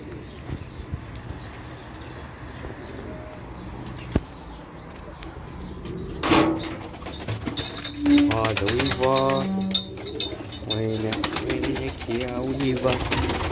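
Pigeons at a pigeon tower coo and flap their wings, with sharp wing claps and burbling calls building up close by. Several people talk over the birds throughout.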